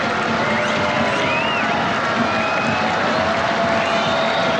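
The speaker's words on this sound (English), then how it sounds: "Crowd getting right into this shootout." A stadium crowd roars steadily through a South Korea versus Japan football penalty shootout, a loud, unbroken wall of cheering with faint whistles rising above it.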